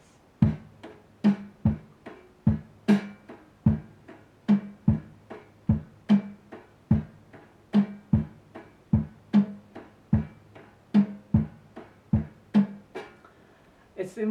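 Drum kit playing a steady bass-and-snare pattern, alternating low kick thumps with sharper snare hits at an even tempo, loud and close with no other sounds.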